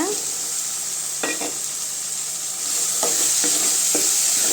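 Dried raw mango pieces are stirred through hot oil with softened tomato in a pan for a Tamil vathal kuzhambu, giving a steady sizzle with a few scraping stirs of a spoon and no talk.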